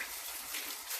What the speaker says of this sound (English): I'm going to just run cold water through there to drain off the sticky stuff.